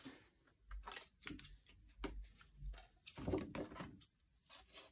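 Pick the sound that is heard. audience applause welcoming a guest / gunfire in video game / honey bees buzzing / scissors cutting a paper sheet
scissors cutting a paper sheet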